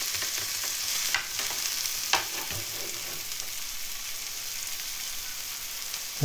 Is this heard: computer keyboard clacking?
no